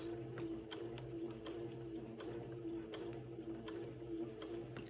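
A sewing machine runs at an unhurried pace stitching a seam on an antique baptismal gown, its steady motor hum punctuated by light, regular ticking of the needle.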